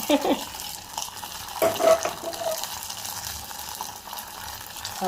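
Roasted cashews stirred into pongal in a home kitchen pan, giving soft scraping and clinking stirs with a brief louder burst midway, steady and close.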